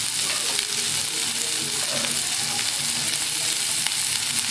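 Spring onions stir-frying in a pan while chicken lollipop is being cooked, with a steady, loud, dense sizzle and crackle and faint scraping of stirring throughout, no voices.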